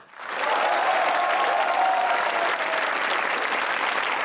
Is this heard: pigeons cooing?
no